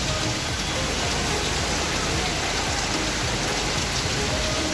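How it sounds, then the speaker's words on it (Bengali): Heavy rain pours down in a dense, continuous hiss, loud and steady throughout with no letup, drumming on surfaces nearby while no one speaks. "আর এইদিকে আরও ঝেপে এলো বৃষ্টি, বাপরে কি জোরে পড়ছে।"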